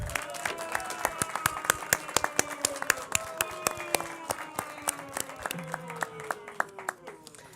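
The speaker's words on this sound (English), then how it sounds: "Can we give him a round of applause?" Audience applause at a Los Angeles city council meeting, with sharp individual claps standing out over a steady patter of hands for several seconds, while a sustained musical tone runs underneath.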